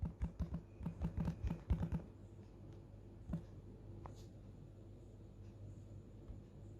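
Keys tapped on a computer keyboard, a quick burst of close, crisp clicks for about two seconds, then a few isolated taps over a low background hum.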